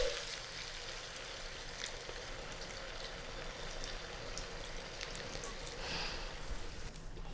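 Water poured into a pan of Bengali rui fish curry hits the hot spices with a steady, moderate hissing sizzle that rushes like rain and carries on evenly throughout, with no voices.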